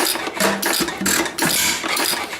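A 95-year-old engine cranks over and runs, giving a loud, uneven series of rough chugging bursts and puffs at close range with no voices.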